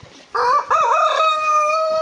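On a farm, a rooster crows loudly and close in one drawn-out call, following a brief cluck from the chickens, with no talking.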